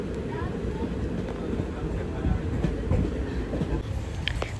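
A train runs on rails near Kanhangad railway station with a loud, continuous rumble and faint clatter, heard close by from start to finish.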